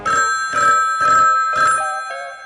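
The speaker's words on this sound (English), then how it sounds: "Well, when the phone rang like this" An old-style telephone bell rings in four loud, evenly spaced bursts, each about half a second long, with a fainter ring trailing at the end. No one speaks.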